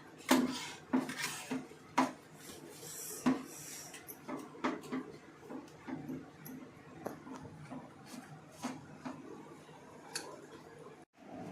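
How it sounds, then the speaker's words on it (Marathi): Modak dough being mixed in a pot with a glass, producing repeated clinks and scraping knocks of glass against metal at an irregular rhythm, close and fairly quiet. "आता पेला घ्यायचा, पेलानं मिक्स करायचं।"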